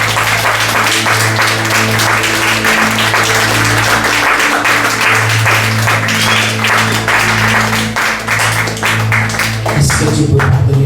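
A church congregation applauds and cheers in a loud, sustained, dense wash of clapping, with a steady low hum underneath.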